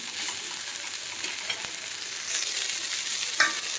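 Ghol leaf greens being mixed in a hot pan, a soft, even sizzle with faint scraping and a brief clink near the end.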